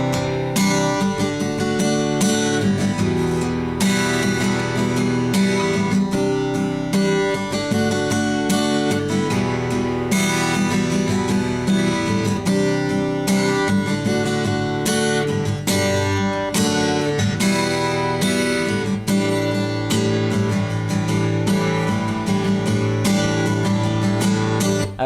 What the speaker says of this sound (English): So the bridge should sound like this.